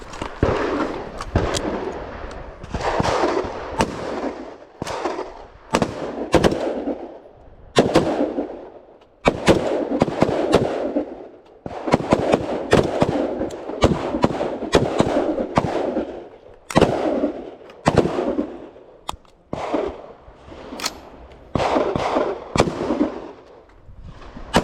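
Rifle shots ring out at an outdoor shooting range, many sharp cracks in irregular bursts across the whole stretch, some close and loud, others overlapping from several shooters firing at once.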